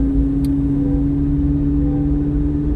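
Steady loud engine drone from inside a Chevrolet Corvette C8 Z06 driven fast, a constant tonal hum over road rumble with no talking.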